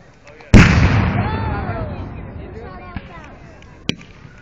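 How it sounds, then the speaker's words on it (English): Confederate gunfire at a Civil War reenactment of the Battle of Olustee: a single loud, near blast that booms and rolls away over several seconds, followed by a fainter distant pop. "Confederates bound to return fire soon."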